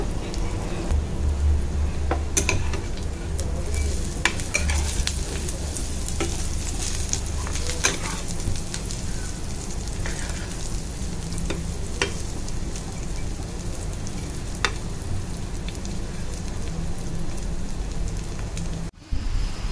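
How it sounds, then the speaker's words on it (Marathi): Fish cutlets made from surmai (kingfish) heads fry in a pan until crisp on both sides, giving a loud, steady, close sizzle that crackles without pause and is briefly stirred or shifted near the end. "दोन्ही बाजूने खरपूस असे मस्त फ्राय करून घ्यायचे"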